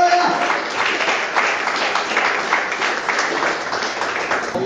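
A church congregation claps in praise of Jesus during a sermon, a full, steady burst of many hands clapping that continues throughout with little change.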